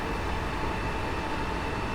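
A train passing in Train Simulator 2017 on the Welwyn Garden City to London Kings Cross line, heard as a loud, steady, dense rumble and roar with no gaps.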